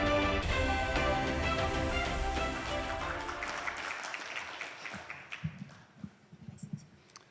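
An audience at an economic forum opening applauds in a dense wash over music, fading into scattered individual claps and taps.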